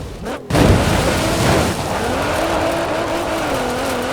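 A race car in the Forza Horizon 4 video game drives over bumpy terrain, its engine droning loud and steady with a rising pitch after a sharp burst at the start, tires rumbling throughout.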